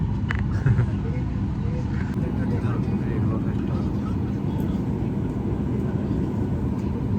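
Steady, loud broadband aircraft rumble fills an airport setting in Thailand, unbroken from start to finish, with faint voices underneath.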